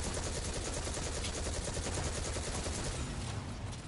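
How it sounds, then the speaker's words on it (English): Dense, continuous gunfire from several players shooting in a video game, a loud rapid barrage that runs for the full few seconds without pause. "And now they're all shooting at me."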